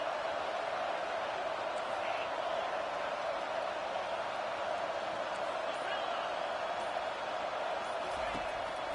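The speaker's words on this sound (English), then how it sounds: "Listen to this crowd just shaking the girders of this place trying to help their defense." A College Football 25 stadium crowd roars as a constant, dense wash of cheering noise at steady loudness throughout, a massive sustained din with no breaks.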